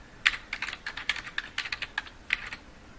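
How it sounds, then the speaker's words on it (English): Keywords typed into a search bar on a computer keyboard: a close, quick run of uneven clicking keystrokes with no voices. "type in our keywords, the Enlightenment"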